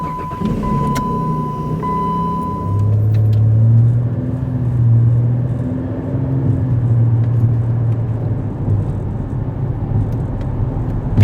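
A car drives along a road on a trip through North Dakota, its engine and tyre noise a steady, fairly loud rumble that swells and eases slightly as it goes, with no talk.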